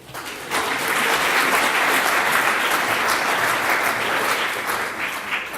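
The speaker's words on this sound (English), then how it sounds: "A round of applause for now." Applause from the audience at a 2018 SAPSA awards ceremony, a steady, full wash of many hands clapping that swells quickly and holds at an even level throughout.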